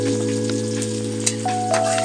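Onion frying in a pan sizzles steadily with a bright, crackling hiss while being stirred, a few soft clicks of the utensil against the pan, under a constant hum.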